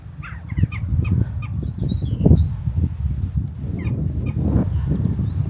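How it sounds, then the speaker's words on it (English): Seabirds nesting in seaside chalk cliffs call repeatedly in short squawks and honks over steady wind and outdoor rumble, fairly near and continuous. "There's birds nesting in the cliffs."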